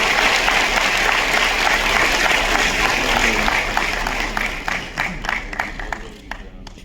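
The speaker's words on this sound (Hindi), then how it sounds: "तालियां होनी चाहिए" An audience at a foundation-day gathering of a Hindi-speaking association applauds warmly, a dense, loud wash of clapping that thins into scattered individual claps and fades, with voices murmuring underneath.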